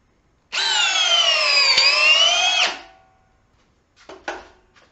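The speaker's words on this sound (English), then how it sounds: "Now the drill driver." A Makita subcompact cordless drill driver whirs loudly for about two seconds with a steady, slightly wavering pitch, then spins down, followed by a couple of faint clicks.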